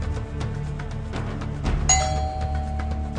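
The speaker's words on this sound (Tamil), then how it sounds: "காலிங் பெல் சத்தம்" A doorbell chimes once with a bright ding-dong tone that rings out and fades, over a busy background of clattering and low hum.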